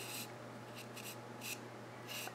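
Alcohol marker coloring the edge of a paper card backer, close and quiet: a few short scratchy strokes with pauses between, in a near-silent room.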